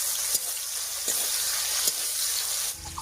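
Chopped tomatoes with a little salt fry in a pan with tempered spices, giving a steady hissing sizzle close up, broken by a few soft stirring knocks.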